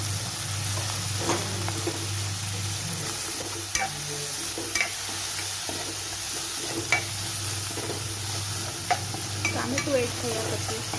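Onions and tomato sauté in a pan for a brinjal oro, giving a soft, steady sizzle close by, with occasional clicks and scrapes from stirring.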